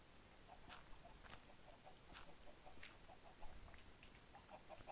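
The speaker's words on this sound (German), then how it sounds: "Ich nerv einen Hühner gerade richtig." Chicken clucking in Minecraft on a chicken farm, repeated soft short clucks spaced irregularly through the clip over a steady background hiss, faint and close.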